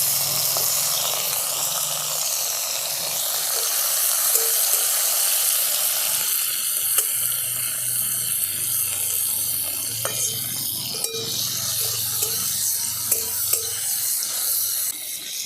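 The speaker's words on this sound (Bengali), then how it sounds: "তেলটা গরম হয়ে গেছে, প্রথমে দিয়ে দিচ্ছি কেটে রাখা টমেটো।" Chopped tomatoes hit hot white oil in a kadai and sizzle steadily, a continuous close-up frying hiss with faint stirring and spattering, no voices.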